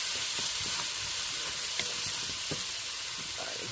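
Chopped onion and jalapeño frying in a hot pan for broccoli soup, a steady close sizzle and hiss with light stirring clicks throughout.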